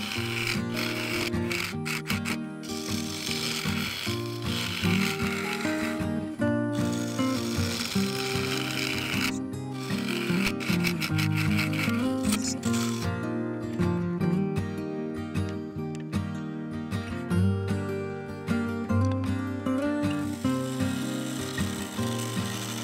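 A carbide lathe tool forms the cutout on a spinning yew vase, giving a continuous rough scraping and rasping of wood that stays loud and close, with no talking.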